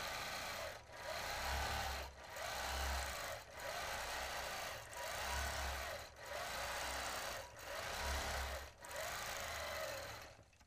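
Sewing machine stitching a quilt block, a loud, close, rapid mechanical whirring that runs in bursts of a second or two, separated by brief pauses, with no talk.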